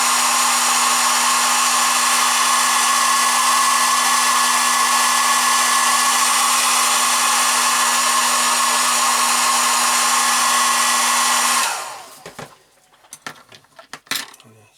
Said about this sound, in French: Là, je vais en mettre un petit coup de sèche-cheveux.